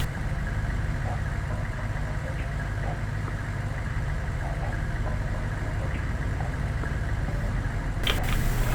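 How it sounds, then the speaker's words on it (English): A Bradley APC in the World in Conflict video game rolls along, its steady low engine drone and track rumble running continuously, with a brief sharper clank near the end. "Bradley on the roll. Tracks are moving."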